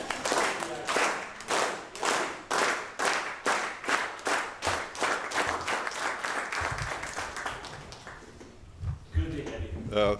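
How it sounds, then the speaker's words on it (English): An audience at a certificate recognition event gives a slow clap, evenly spaced group claps that speed up and then break into scattered applause, with a voice speaking over the end. "So I think we should slow clap him"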